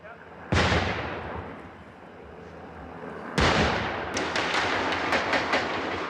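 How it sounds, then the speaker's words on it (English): Two sharp, loud flashbang blasts a few seconds apart, the second followed by a rapid burst of cracking gunshots echoing outdoors as police force their way in. "Flashbangs followed by a flurry of gunfire as police tried to force their way in"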